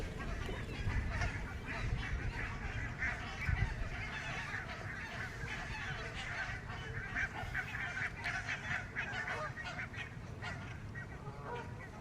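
Geese honk repeatedly near a lakeside fishing spot, a busy overlapping chorus of calls at moderate distance that continues throughout without talk.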